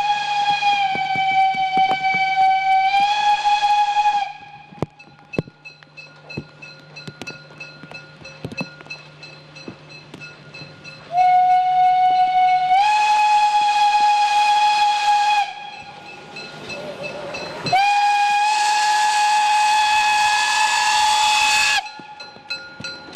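Loud steam whistle blasts sound repeatedly over the hiss and rumble of a steam locomotive entering a station, with long sustained tones separated by quieter chuffing and escaping steam.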